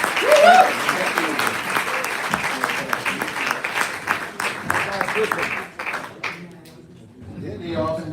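An audience bursts into sustained applause, dense clapping that holds strong and then thins out toward the end, with a speaker's voice over the top.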